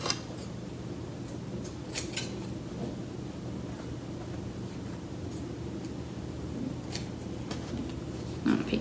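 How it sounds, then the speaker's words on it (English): Small scissors snip excess thread from a handmade fabric mask with ties, a few faint cuts heard close up over steady background hiss and low hum. "I'm just trimming off the excess thread."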